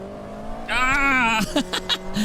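A race car in the Automobilista 2 sim game whines as its engine revs up through a corner, with a brief tire squeal and a voice exclaiming over it.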